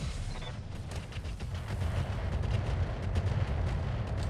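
ER PPC energy weapons firing in the mech game RogueTech, heavy booming discharges and rumbling impacts rolling one after another across a few seconds with no talk.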